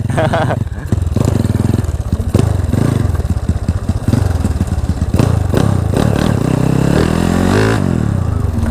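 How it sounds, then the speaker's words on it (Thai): Motorcycle engine revving hard and loud, close by, as a rider prepares to practice wheelies, with rough bursts of throttle and clattering idle between revs and voices talking over it. "ว่าจะซ้อมยกล้อหน่อยเพราะว่าไม่ได้ขี่เลยตั้งแต่วันนั้นอ่ะ"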